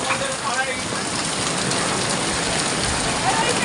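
Rain pours steadily onto an empty street during Cyclone Remal, a dense, even hiss that holds at the same loudness throughout, with no traffic audible.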